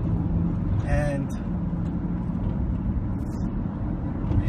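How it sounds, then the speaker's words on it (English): A car driving on the FDR highway in New York City at sundown, with a steady, loud road rumble and engine hum heard from inside the vehicle and a brief high whine near the start. "Driving on the FDR."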